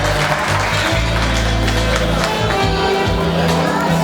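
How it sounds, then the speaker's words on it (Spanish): Wedding guests applaud the bride and groom, a loud and steady wash of clapping and crowd noise with some cheering. Low, sustained music runs underneath. "Venga, los aplausos para José Raúl y Liz y Liliana."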